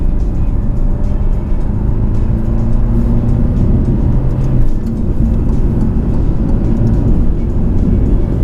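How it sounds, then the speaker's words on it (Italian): An Alfa Romeo Giulia Veloce accelerates onto the motorway, a steady loud drone of engine and road noise inside the cabin, continuous with slight shifts in pitch. "adesso ci stiamo immettendo in autostrada."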